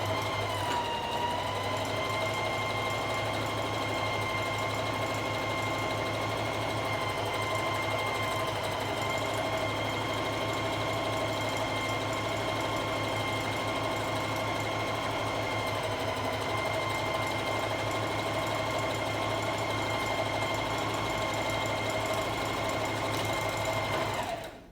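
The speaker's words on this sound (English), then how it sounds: "line up the left side of your presser foot in line with the edge of your fabric, and you can follow that when you sew" A sewing machine runs continuously, stitching straps onto a tote bag with a steady, close mechanical whir that holds an even pace for over twenty seconds before stopping abruptly at the end.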